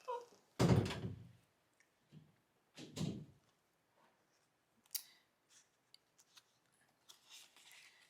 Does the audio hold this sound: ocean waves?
no